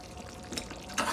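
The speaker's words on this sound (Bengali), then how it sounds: "এখন আমরা ঝোল দিচ্ছি।" Broth pours into duck curry cooking in a pot, a soft liquid splash and trickle over a steady background hiss, swelling briefly near the end.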